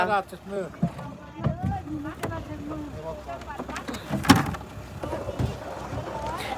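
A boat moving on water in Finland, with steady water and engine wash beneath a voice and other chatter, plus a brief louder splash or knock near the middle.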